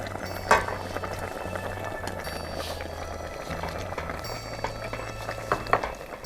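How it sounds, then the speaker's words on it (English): Herb soup with Thai basil bubbling in a pot, a steady low rumble of boiling broken by a few light clinks and small pops, close and continuous with no talking. "It's boiled for 5 minutes."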